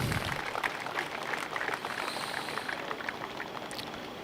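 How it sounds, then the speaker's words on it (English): Steady, dense applause from a crowd at Capital City Raceway during a race-day event, a continuous wash of clapping at moderate level throughout. "So give them a big round of applause"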